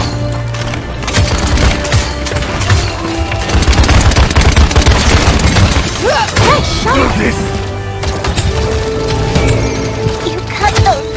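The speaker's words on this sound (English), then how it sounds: "They're firing on me!" Rapid gunfire in the Paladins video game: dense, loud bursts of shots, booms and impacts in a hectic fight, with voices calling out beneath the barrage.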